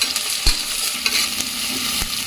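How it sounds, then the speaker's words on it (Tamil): Onions for mutton biryani sauté and sizzle in a hot pan, with a steady frying hiss and repeated scraping knocks of a spoon stirring them, close and alone. "இந்த வெங்காயம் வதக்கிறது தான் டேஸ்ட்டே கொடுக்கும்"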